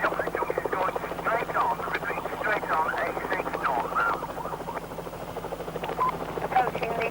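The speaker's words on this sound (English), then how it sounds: "the police helicopter was capturing every moment on camera" A police helicopter in flight during a 1997 pursuit of armed robbers in Lancashire, its rotor chop pulsing faintly beneath crackly radio chatter and a narrating voice.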